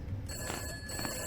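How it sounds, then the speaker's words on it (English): An old-fashioned telephone bell rings steadily inside the horror video game Summer of '58, a bright, continuous trill that lasts for the whole short moment at moderate loudness. "Phone's ringing."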